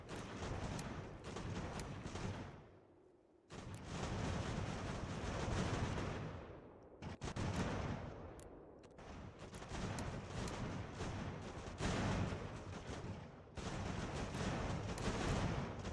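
Cannon and musket volleys from an American Revolution battle in Ultimate General: American Revolution roar almost continuously, dense loud gunfire and artillery booms with brief lulls, no voices.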